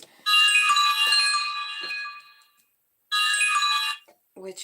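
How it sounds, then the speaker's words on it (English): A phone rings with loud, bright bell-like tones in two bursts, a long ring then a shorter one after a pause, heard close with faint talk between. "Sorry about the phone ringing."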